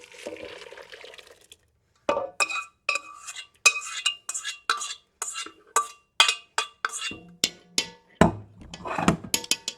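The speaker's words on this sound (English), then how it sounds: "I'm going to take this guy, give these a stir." A utensil stirs sautéed vegetables in a pot for oil-free vegan split pea soup, giving a quick run of sharp scraping clicks and knocks against the pot after a short soft sizzle, close and fairly loud with no talk.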